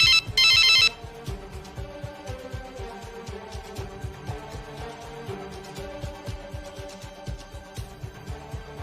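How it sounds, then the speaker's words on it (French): A telephone rings after a number is dialed: a short, loud electronic ring bursts out at the start and then stops. A soft rhythmic background continues after it. "elle compose le numéro de Rambo"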